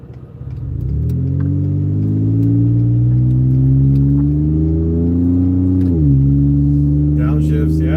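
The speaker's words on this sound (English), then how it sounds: "You like the sound of the downshifts on the truck?" A truck engine in sport mode drones loudly and steadily, its pitch slowly climbing, then dips sharply for a downshift before settling back into a strong, close roar.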